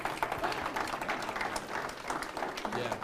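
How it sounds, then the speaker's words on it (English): A small audience at a fireside chat event claps in a quiet, steady round of applause, faint and somewhat distant, with a murmur of voices mixed in underneath. "I guess round of applause for that."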